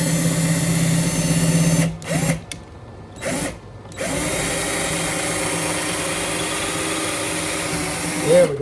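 A power drill with a long bit bores into a 1943 Martin D18 acoustic guitar during a neck reset, a steady whine that stops briefly twice before running on at an even pitch.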